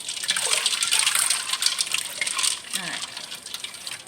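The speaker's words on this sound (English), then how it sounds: "So that is 4 cups of ice. Need to get that down. And stir it a little bit." Ice being stirred into freshly brewed kombucha tea, four cups of it, giving a steady wet sloshing and clinking of cubes against liquid, close and continuous with no talk.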